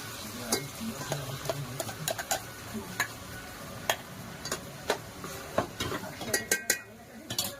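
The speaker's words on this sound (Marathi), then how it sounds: "तेल गरम झालेलं आहे। आता आपण त्याच्यामध्ये वाटलेला हा वाटण्याचा मसाला आहे" Ground homemade masala paste fries in hot oil for a crab curry, a soft background sizzle under frequent sharp clinks and scrapes of a spoon against the pot.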